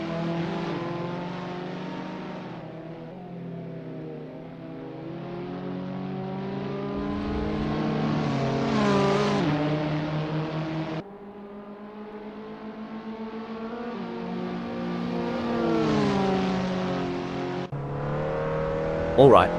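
Caterham Academy race cars on the Nürburgring in a racing sim: a buzzing engine note climbs steadily in pitch, drops sharply at each gear shift and climbs again, loud and close, repeated through the whole stretch.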